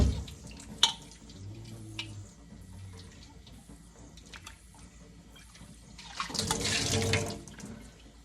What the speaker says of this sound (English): My water pressure is not very good, so this is going to take a second.